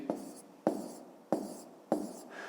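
A pen writes on paper during a fifth-grade maths exercise, with four evenly spaced scratchy strokes, each starting sharply and fading, close and quiet with no talk.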